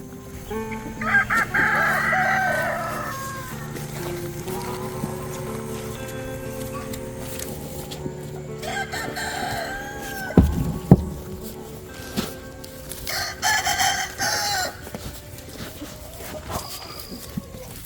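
A rooster crows loudly nearby, with chickens in a chicken tractor clucking and other birds calling around it in an open outdoor setting during a hurricane.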